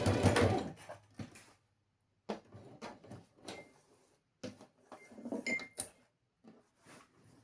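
A sewing machine stitches a fabric pencil case in short mechanical bursts of whirring and clatter, separated by pauses of silence and a few small handling sounds, heard close and fairly loud with no talking.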